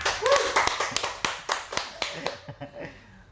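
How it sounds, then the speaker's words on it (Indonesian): A few people clap steadily for Bang Tigor at a podcast recording, fairly close and loud at first, then thinning into scattered, fading claps, with voices briefly under the start. "Tepuk tangan dulu buat Bang Tigor."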